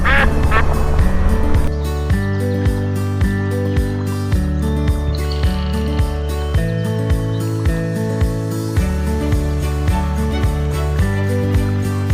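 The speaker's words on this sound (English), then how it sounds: "there's some duckies out there too" Ducks quack in repeated, evenly spaced calls outdoors along a motorcycle route in eastern Prince Edward Island, Canada. The calls are loud and close, layered over a steady background, with no talking.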